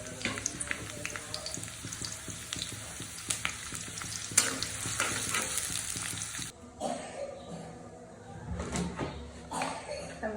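Paste frying in hot oil in a wok for a chickpea dish, a steady sizzle with stirring scrapes and soft clatter, fairly close, quieting after about six seconds to lighter bubbling and scraping.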